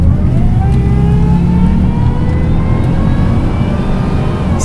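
A Jaguar S-Type R car engine accelerates steadily, its pitch climbing in smooth rising tones, loud and close throughout with no talking.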